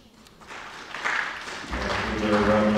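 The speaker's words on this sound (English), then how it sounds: "Round of applause." Audience applause at a city council meeting, starting thin and swelling into fuller clapping that continues steadily to the end, heard in a large room with some voices mixed in.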